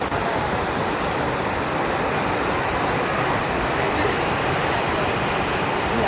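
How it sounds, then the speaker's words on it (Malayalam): Jogini waterfall near Manali, a steady and dense roar of falling water that fills the whole clip, close and loud without any breaks. "ഇവിടെ വെള്ളം വീഴുന്നു."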